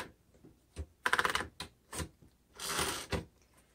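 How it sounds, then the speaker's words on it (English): A 1947 Royal Upright Standard manual typewriter clatters under steady typing, with quick bursts of loud keystrikes, mechanical clacks and a carriage movement, close and alone. "let us do some typing and see how it does."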